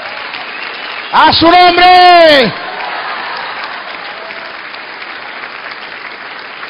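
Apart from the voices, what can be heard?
congregation applause in church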